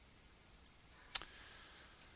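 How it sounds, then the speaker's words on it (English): Several light, close clicks of a computer mouse and keyboard in a quiet room, spaced irregularly, with one sharper click in the middle. "if I wanted to add a T4 for Robert Martini, I'd simply click on the key sign here or hit the F11 key"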